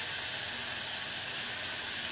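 Onions fry in a pan with a little salt, giving a steady, close, even sizzle and hiss with no break.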